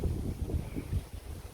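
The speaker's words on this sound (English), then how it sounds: "And we've been getting some pretty damn good gusts." Low, blustery wind buffets the microphone in uneven surges, rumbling and rising and falling in strength with no voices.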